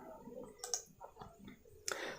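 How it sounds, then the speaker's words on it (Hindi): A computer mouse clicks on the save and next button of an online mock test, giving a few faint, sharp clicks spread over two seconds with light background noise. "सेव एंड नेक्स्ट बटन पे क्लिक करेंगे।"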